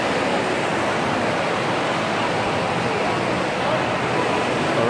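Las Vegas fountains splash in a loud, dense, continuous rush of falling water that fills the whole stretch evenly.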